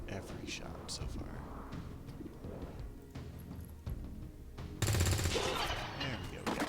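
Gunfire in XCOM 2: War of the Chosen, a video game: repeated shots and bursts over steady game ambience, loudest near the end, with a voice talking quietly at points.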